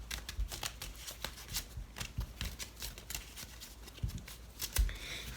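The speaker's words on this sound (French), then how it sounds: "là j'ai un jeu de cartes, je le mélange bien" A deck of playing cards is shuffled by hand at close range, giving quick repeated riffles and soft flicks in an irregular rhythm, with no talk over it.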